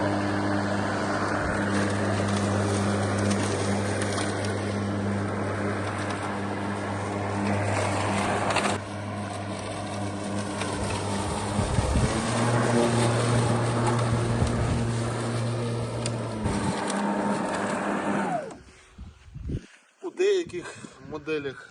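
A Husqvarna Aspire LC34 battery lawn mower motor hums steadily and fairly loudly while someone talks over it; the hum cuts out near the end.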